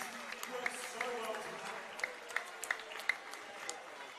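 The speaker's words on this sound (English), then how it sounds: "Give him a round of applause." A crowd at a Shepparton versus Sunbury football match claps for a player getting up after a bad fall, scattered applause and sharp claps at a moderate distance under a commentator's talk.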